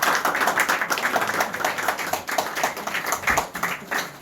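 An audience gives brisk, sustained clapping at a cricket kit award ceremony, a dense, steady patter of many hands nearby that lasts the whole time.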